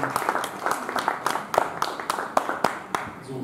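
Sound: audience applause after a talk

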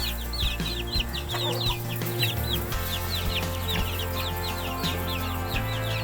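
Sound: two-month-old Betong chickens clucking

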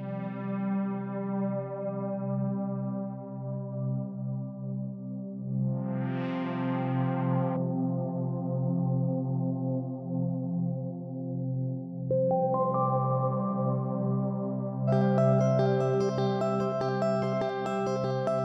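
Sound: damp chords with UJAM UFX Reverb plugin

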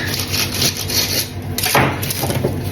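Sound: knife cutting a fresh sourdough bread loaf

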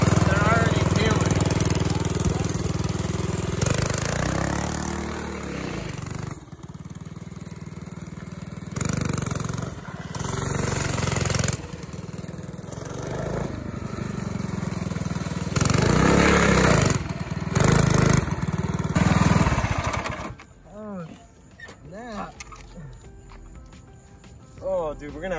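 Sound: go-kart engine running with rubber band tires

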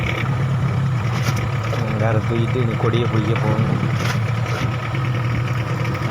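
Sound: fishing boat with two Yamaha outboard engines

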